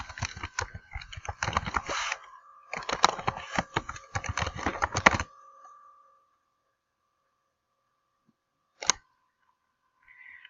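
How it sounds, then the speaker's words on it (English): Close, quick keystrokes on a computer keyboard entering an email address, coming in two bursts of rapid clicking, then silence broken by one sharp click. "You type in your email address."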